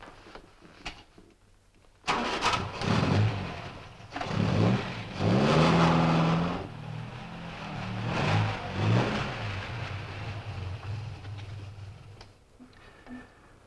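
A car engine starts abruptly and revs up and down as the car drives off, close and moderately loud, with the engine note rising and falling through several gears before fading slightly.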